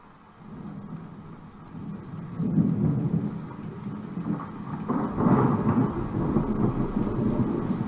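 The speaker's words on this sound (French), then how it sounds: "Il pleut." Rain pours steadily in a survival video game while thunder rolls in heavy, swelling rumbles, two loud peaks building over the constant downpour, with no voices.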